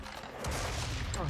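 Gunfire in the first-person shooter Serious Sam 3: BFE: after a quieter opening, a loud, dense burst of shots kicks in and keeps hammering steadily to the end.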